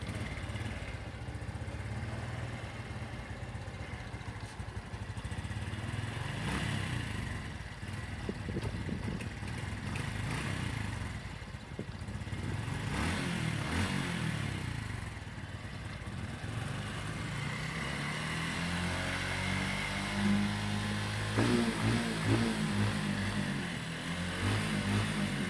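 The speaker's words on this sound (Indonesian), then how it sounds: "Oke, kita akan menggunakan engkol engine ya teman-teman" A motorcycle with a fuel problem from ethanol-blended Pertalite is kick-started and left to idle with an uneven putter, then revs toward the end with rising, wavering engine tones, recorded at a moderate distance.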